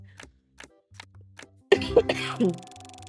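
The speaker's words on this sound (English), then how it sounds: "But this cough is a dry cough is the thing." A few faint ticks, then a single harsh, dry cough up close, followed by a short throaty exhale.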